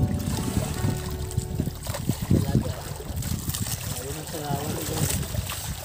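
Wind gusts and choppy sea waves wash around a small fishing boat out on open water during traditional net fishing, a steady rushing bed with water trickles and splashes, while people talk over it.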